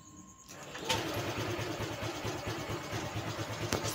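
A Honda PCX scooter that had a starter-switch fault cranks on its electric starter and then runs with a steady, loud mechanical drone close by, after a brief quiet start.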